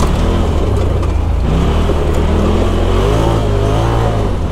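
Polaris RZR side-by-side buggy engine roaring continuously at high revs on a motocross dirt track, loud and close with throttle swells, no talking.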